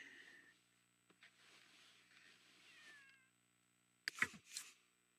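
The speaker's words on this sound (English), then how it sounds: "Winkles is not a good bath kitty." Pet cat Winkles, reluctant at bath time, lets out a couple of short, loud meows near the end after a stretch of quieter cries and rustling at a distance.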